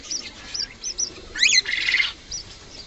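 A pair of cockatiels kept in a loft give short, bright chirps and calls in separate bursts, with a louder run of notes in the middle, close by over a quiet background.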